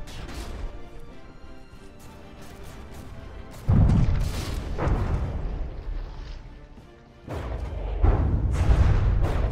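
In the From the Depths naval game, heavy artillery shells slam into the warship Danubia, producing booming crashes and rumbling impacts in two loud bursts over a lower background rumble.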